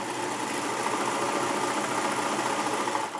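A serger machine stitches a knit neckband onto a shirt, running as a fast, steady mechanical whir with a dense rattle held continuously at close range for around three seconds before easing off.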